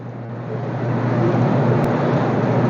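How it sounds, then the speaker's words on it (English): A 1967 Firebird engine runs with an exhaust crossover leak, giving a steady, loud, broadband roar that holds at one level from start to finish. No voices are heard. "That almost sounded like an exhaust crossover leak."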